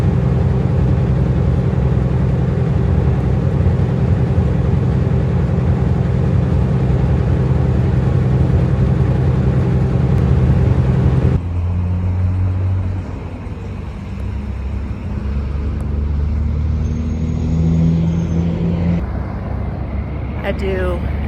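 A truck droning steadily on the road, a constant low engine and road rumble from inside the cab that shifts tone partway through, with someone talking over it.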